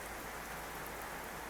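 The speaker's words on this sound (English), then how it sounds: "rainy, rainy morning" Steady rain falls through a morning on a goat farm, a dense, even patter of drops on surfaces, close and constant, with no voices.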